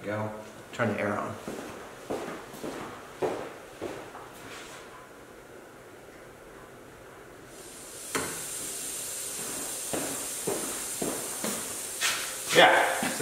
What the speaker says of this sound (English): I've got air just leaking straight out of here